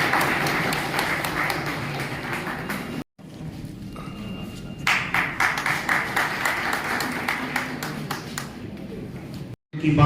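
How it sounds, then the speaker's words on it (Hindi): An audience at a lawyers' awards ceremony applauds in a dense patter of clapping that swells and holds, with a short break partway through, while a voice speaks over it at times. "सबसे आग्रह करता हूं कि तालियों से अपने"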